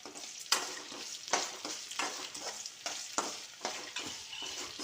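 Garlic cloves, black pepper, cumin and fenugreek seeds sizzle and fry in hot oil for a traditional Chettinad fish curry, with steady crackling broken by several louder bursts as the spices are stirred, close and with no talk.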